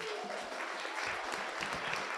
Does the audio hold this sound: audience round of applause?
yes